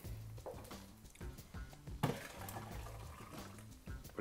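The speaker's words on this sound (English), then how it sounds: "I'm going to take a little bit of that water out." Water scooped or poured out of a cooking pan while making chicken parmesan gives soft splashy trickles, with one sharper splash near the middle, over steady background music in a kitchen.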